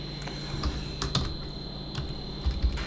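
Rapid, uneven typing on a computer keyboard, with a cluster of sharper key clicks near the middle, close up and clear over a faint steady hum.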